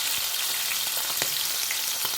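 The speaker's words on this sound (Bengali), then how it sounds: "মাছ ভাজা হয়ে গেছে" Foli fish frying in oil, a dense, continuous loud sizzle with rapid crackling spits throughout the short stretch.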